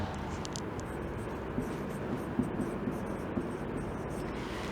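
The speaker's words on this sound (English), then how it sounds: "So I just write here watched." A teacher writes on a board, giving faint scratchy strokes with a few soft taps at irregular intervals over a quiet room hiss.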